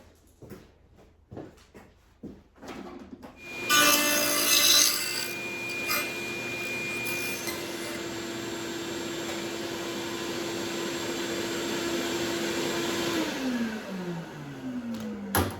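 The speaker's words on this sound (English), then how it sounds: "There's a spot over here to hook the vacuum up to the saw." A power saw cuts wood with a vacuum hooked up to it. Taps and handling come first, then a loud whine starts and holds steady for about ten seconds before winding down, with no speech.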